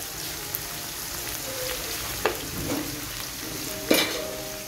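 Onions fry for a tempering in a pan with a steady, close hiss and sizzle, broken by a few sharp scrapes and clinks of a stirring utensil.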